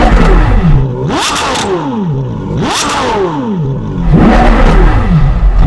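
A Porsche Carrera GT engine revs hard several times in succession, with induction roar and exhaust howl sweeping up and falling back, then a sustained loud rev toward the end. Close and loud, with no talking.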